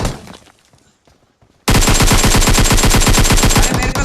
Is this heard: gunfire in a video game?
yes